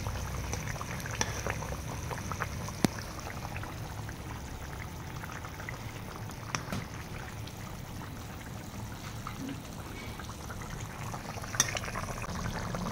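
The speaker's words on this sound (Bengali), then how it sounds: "ঝোল ফুটে গেছে, এখন মাছগুলো দিয়ে দেবো।" Spicy gravy for a sea chital fish curry boils in a pot with a faint, steady bubbling and a few soft clicks, quiet and continuous with no talking.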